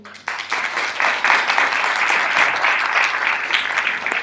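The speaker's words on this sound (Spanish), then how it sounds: "Le damos un fuerte aplauso." Audience applause for panel speakers at a local content event on heritage sites, steady dense clapping from many hands that holds at full strength throughout.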